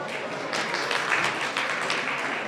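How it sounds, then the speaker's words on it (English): An audience at a mental health awareness fundraiser claps in a steady, moderately distant round of applause that lasts a few seconds without talk. "Can I have a big round of applause for Gurpal Dhaliwal"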